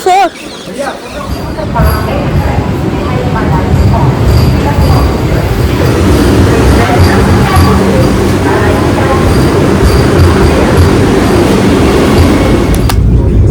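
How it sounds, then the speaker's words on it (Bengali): A loud, rumbling roar of a train pulling into a station fills the scene, with voices and bird calls mixed in. "হ্যাঁ চলো আমাদের ট্রেনও ঢুকছে চলো"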